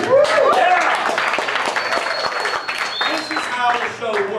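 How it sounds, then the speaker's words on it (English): A crowd at a live promo-cutting show cheers and applauds, claps mixed with shouts and whoops, loud and close, while voices call out over the clapping. "give yourselves a round of applause for that"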